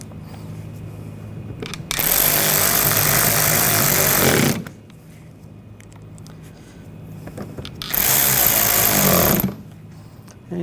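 Power tool driving screws into the front bumper cover trim of a 2014-2020 Nissan Rogue, two loud whirring bursts of a few seconds each separated by a quieter pause.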